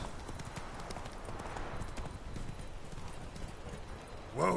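Hooves of the horse Roach clip-clop steadily across ground in The Witcher 3: Wild Hunt, a continuous game-world trot under ambient wind, ending with a short whinny-like sound.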